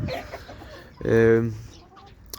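A rooster crows loudly once, a long harmonic call rising and holding, with faint clucking and background talk before it.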